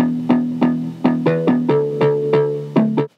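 A punchy, distorted electronic synth stab recreated in NI Massive plays a rhythmic pattern of about nine short bright hits, with the pitch stepping up on a few notes.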